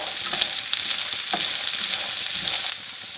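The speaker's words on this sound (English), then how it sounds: "We're going to add our chickpeas now. Stir them through." Chickpeas fry and are stirred in a pan for spicy fried chickpeas, giving a steady close sizzle with soft scraping stir strokes throughout and no talking.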